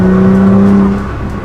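Stage 2 tuned Nissan GT-R accelerating in fourth gear, a loud steady engine drone with strong low tonal harmonics heard from inside the car, easing off after about a second, no speech.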